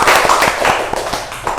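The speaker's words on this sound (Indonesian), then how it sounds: "tepuk tangan untuk kalian" Students clapping hands in a classroom during a microteaching English lesson, a loud burst of quick, overlapping claps that sounds fairly close, with a voice faintly mixed underneath.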